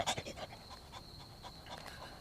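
A dog pants in quick, soft breaths, a few louder at the start and then steady and fairly close, with no talk over it.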